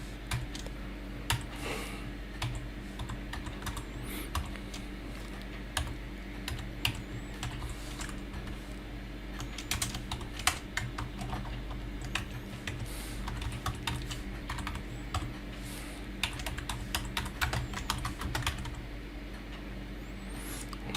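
Steady typing on a computer keyboard while code is entered, with rapid clicking keystrokes and occasional louder key hits that run throughout over a low continuous background hum, with no voices.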